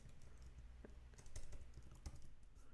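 Keys clatter on a computer keyboard as a search term is typed, a quick irregular run of soft clicks with a couple of sharper taps, close and quiet over low room hum.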